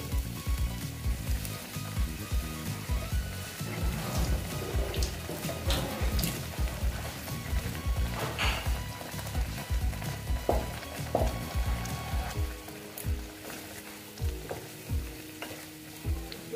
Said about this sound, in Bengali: দিয়ে এখন আমি এটা একটু কষিয়ে নেব